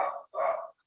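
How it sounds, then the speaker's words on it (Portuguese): A dog at home barks twice in quick succession, two fairly close, full-bodied barks separated by a brief pause, with no talking over them. "Como a gente está com cachorro, de vez em quando vão ter alguns latidos, tá?"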